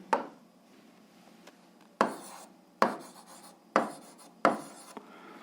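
Pen strokes write out an eighth-grade algebra solution on paper: five distinct scratchy bursts, each starting sharply and fading, spaced about a second apart against a quiet background.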